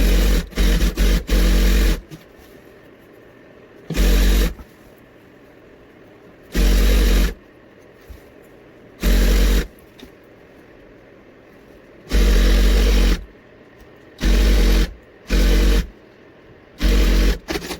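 A sewing machine stitches around the inside of a large back-cushion pillow cover in repeated bursts of rapid mechanical whirring, each lasting one to two seconds and separated by short quiet pauses, loud and close with no voices.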